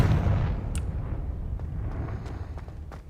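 Confringo fire spell cast in Hogwarts Legacy, a deep booming blast with rumbling low end that decays over about three seconds, heard alone with faint crackles trailing after.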